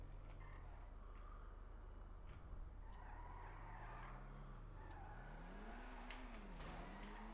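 The engine of a Pegassi Toros SUV in GTA 5 drones steadily while driving, its pitch rising and falling through gear changes and revs, with occasional tyre noise and no talking.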